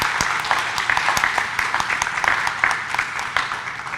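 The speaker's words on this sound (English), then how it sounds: "one more round of applause, please" Audience applause at a college honors forum for honors students, dense sustained clapping from a crowd at a steady level throughout, with no talking over it.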